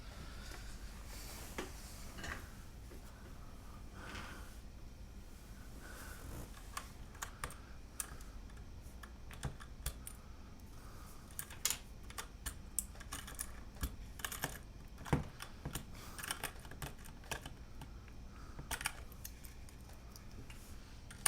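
Fingers type on a mechanical keyboard fitted with blank Signature Plastics keycaps, producing a quiet, irregular stream of clicks and clacks with occasional sharper key hits over about twenty seconds, with no speech.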